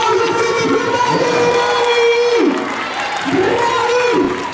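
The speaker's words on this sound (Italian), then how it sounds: "battete le mani per voi, fate un meraviglioso applauso, siete più belli!" At an outdoor family fun run, a crowd applauds and cheers loudly and continuously, with whoops rising over sustained clapping and a voice over a loudspeaker talking throughout.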